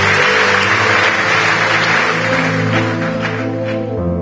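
A church congregation applauds to acclaim the Lord, a loud sustained clatter of many hands with no break, and steady musical tones underneath throughout.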